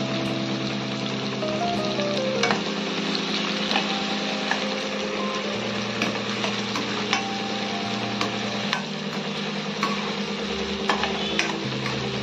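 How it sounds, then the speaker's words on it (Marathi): Chopped onion fries in a pan over low heat for a dhaba-style egg masala, giving a steady, close sizzle with scattered light clicks of stirring and no talk. "कांदा मस्त सोनेरी रंगावर येईपर्यंत आपल्याला एकदम मंद आचेवर छान असा परतून घ्यायचा आहे"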